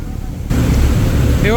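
The Sundarban 16 passenger launch cruises at full speed on its river journey from Barisal to Dhaka, with a steady, loud wash of engine and water noise that swells after a brief quieter moment.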